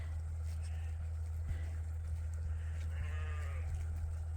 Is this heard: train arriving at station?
no